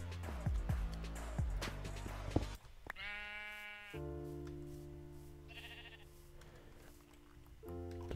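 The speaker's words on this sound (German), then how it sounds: "Total unauffälliges Schaf hier." Sheep bleating in the Minecraft video game, several distinct synthetic bleats in a row, loud and close, over game background sounds with no talking.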